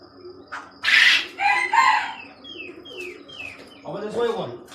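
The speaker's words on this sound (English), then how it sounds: "I'm gonna get one of these small little chickens" Small chicks chirping close by, a string of high descending peeps and a few louder calls, loud and repeated over a quiet background.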